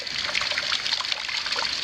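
Water hissing and trickling out around the valve stem of a leaking outdoor faucet at a house exterior, a steady close spray with no pauses.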